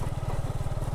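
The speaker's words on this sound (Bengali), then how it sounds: "এখন বাইক মাঠে চালাচ্ছি" A motorcycle rides off the road across an open field, its engine close and loud with a fast, even pulsing beat that holds steady throughout.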